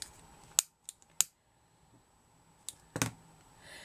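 Scissors snipping while hair clips are made by hand: a few sharp, separate cuts close by, spread out with quiet gaps between them and no talking.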